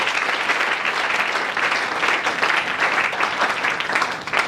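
A church congregation at a French-language worship service applauds for the Lord, with steady, dense clapping from many hands that is loud and sustained throughout, without pauses.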